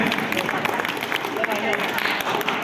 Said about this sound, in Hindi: एक बार मैं सभी से चाहूंगा कि तालियों के साथ उनका स्वागत व अभिनंदन करें